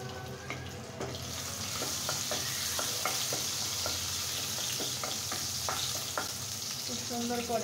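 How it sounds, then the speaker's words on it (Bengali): Chopped garlic sizzles in hot oil with a steady bubbling hiss, broken by frequent small crackles and spatter pops from close by. "এখন আমি প্রথমত রসুন কুচিটা দিয়ে দিচ্ছি তেলের ভিতরে।"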